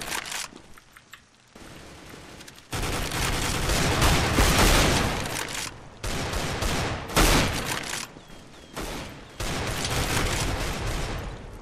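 Pistol gunfire in Counter-Strike: Global Offensive during a co-op match comes in loud, dense bursts of rapid shots separated by short gaps, close and harsh, with occasional footsteps in between.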